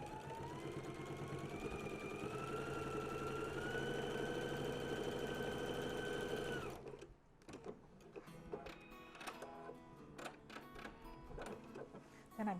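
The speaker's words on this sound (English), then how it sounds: "Now I'm just going to top stitch right along each one of these edges" A domestic sewing machine whirs steadily while top stitching along the edges of a small multipurpose bag, the motor pitch rising slightly, then stopping abruptly into quieter handling clatter and fabric rustle.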